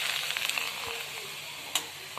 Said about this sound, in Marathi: इथं मी नाचणीचे पापड तळते